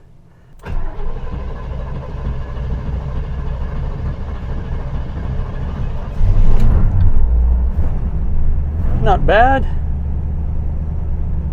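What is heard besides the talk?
C3 Corvette engine cold start and idling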